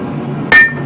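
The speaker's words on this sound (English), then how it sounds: "I don't know why I didn't start using a hammer like this sooner." A single hard hammer blow rings out against railroad steel being forged into a sword blade, a sharp metallic strike with a brief bright ringing tail over low shop hum.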